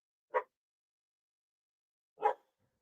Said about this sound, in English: Got my dog barking.